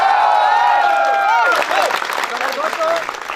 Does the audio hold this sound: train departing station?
no